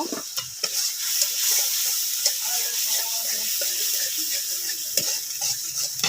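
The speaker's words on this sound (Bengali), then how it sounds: "ভালো করে মশলাটা কষাবো।" Spice paste for a fish curry, with a little chilli powder, stir-fried in oil in a pan, with steady close sizzling and scraping strokes throughout and no talking.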